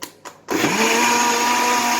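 A blender starts up and whirs steadily at close range, beating cake batter ingredients for a chocolate-sauce blender cake; a couple of soft knocks come first, then a constant high motor whine.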